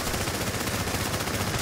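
An LMG machine gun in The Division video game fires continuously, a dense, loud, unbroken stream of rapid shots that fills the whole stretch with no pauses.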